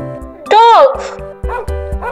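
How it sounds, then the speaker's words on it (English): A dog barks once clearly, followed by a couple of softer yips, set against cheerful background music. "Here is the dog."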